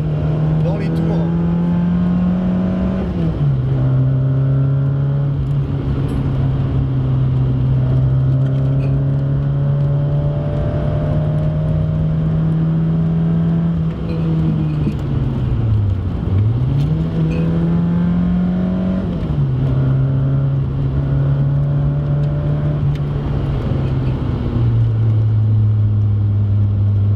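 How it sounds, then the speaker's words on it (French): Citroën AX GT with a large intake and exhaust, its engine droning steadily and climbing through the revs, with pitch dips and rises as the throttle eases and reopens, loud and close throughout. "C'est un moteur qui marche dans les tours."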